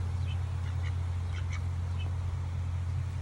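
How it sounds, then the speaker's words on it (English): Several ducks quack in short scattered bursts over a constant low hum in New Zealand's North Island, the calls moderately loud and irregular across the few seconds. "You were nice little ducks"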